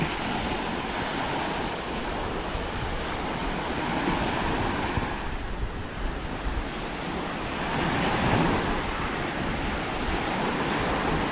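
Waves roll onto the shore at EOD Beach in Sattahip, Chonburi, Thailand, a continuous, fairly loud wash of surf with slow swells and some wind rumble and no voices.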